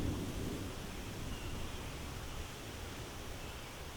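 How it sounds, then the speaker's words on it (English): Thunder during a storm rolls as a faint, distant rumble beneath a steady hiss of rain-like noise, with no voices present. "Oh, there's a little thunder."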